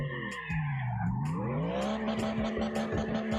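A drifting car in the video game CarX Drift Racing Online, with a continuous engine note rising and falling as the tyres squeal through a long slide, loud and unbroken with no talk.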